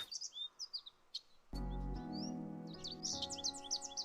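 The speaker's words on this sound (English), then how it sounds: "The chirps are still here." Bird chirps tweet in a rapid, high series, then continue over a sustained tonal musical drone that kicks in partway through, the chirping returning louder and busier near the end.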